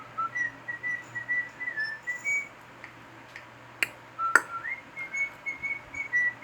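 A cockatiel whistles in a series of short, clear melodic phrases with pauses between them, close and fairly loud, broken by a couple of sharp ticking snaps in a quiet indoor room.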